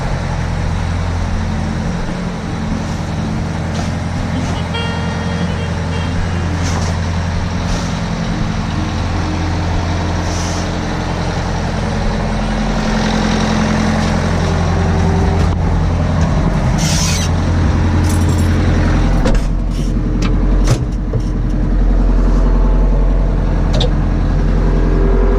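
A Kubota LX3310 compact tractor engine running steadily and loudly up close as it turns around, a constant low drone with slight shifts in load and some faint clanks.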